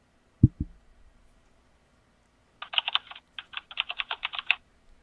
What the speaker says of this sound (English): The computer is clicking on the keypad.